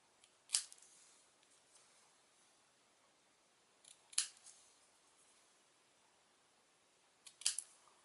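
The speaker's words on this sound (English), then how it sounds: "I'm going to follow the same angle with my scissors as is in this little pointy thing here on the end" Three separate, crisp snips of scissors cutting cardstock while trimming a Thanksgiving thank-you card, each a short sharp crunch spaced several seconds apart in a quiet room, with no talking.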